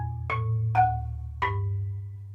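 Three mallet strokes on a marimba play a bass line descending in fifths, each note struck cleanly and left to ring over a low sustained tone.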